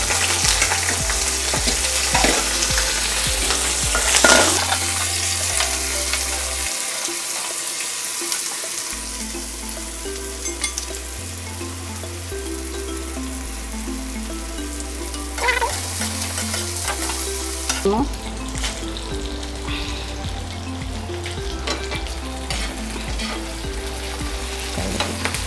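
Onions sizzle and fry in a pan for a Chettinad mutton pepper fry, with a spoon stirring and scraping at intervals, close and continuous, alongside a running tap and low background hum.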